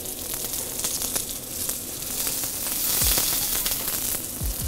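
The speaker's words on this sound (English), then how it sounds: "I'm going to let them cook gently over a medium heat until they're just cooked" Onions sizzling in a pan as they fry to a deep golden brown in a restaurant kitchen, a steady close crackle with occasional louder spits and stirring scrapes, no voices.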